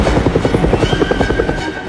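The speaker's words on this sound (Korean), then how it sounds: "그러자 헬기 등장." Helicopter in an animated film, arriving with a loud, close, rapid rhythmic rotor chop and a steady engine whine, with no voices over it.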